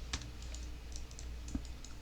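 Faint, scattered keystrokes on a computer keyboard sound as light, sparse clicks in quiet surroundings.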